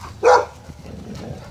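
A dog confronting a cornered tamandua anteater lets out one loud, close bark, followed by quieter low scuffling and rustling.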